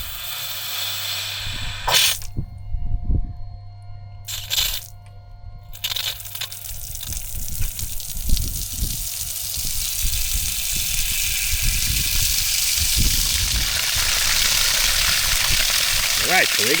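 Water pump drawing water from a 100-year-old repaired well, with a steady hiss and rushing flow that builds from about halfway through, following scattered clunks and handling noises near the start.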